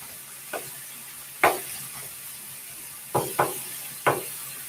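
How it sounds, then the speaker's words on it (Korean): Green onions are stir-fried with meat in a pan: a steady sizzle runs throughout, and several sharp scrapes and clacks of a utensil against the pan come at uneven intervals, close and clear. "대파를 넣어주시고 볶아주세요."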